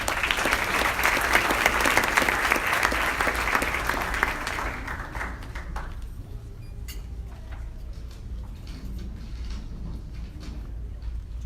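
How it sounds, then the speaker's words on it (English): Gala audience gives sustained applause at an annual scholarship event, dense and loud for about six seconds before thinning to scattered claps and room murmur. "please give a round of applause for Kareem"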